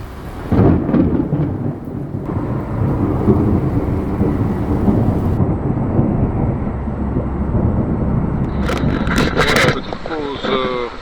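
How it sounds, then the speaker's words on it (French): A distant thunderstorm at six in the morning in the Mont Blanc mountains, thunder rolling in a long, deep rumble for several seconds, with a voice briefly heard near the end. "Et au loin, j'entends des orages."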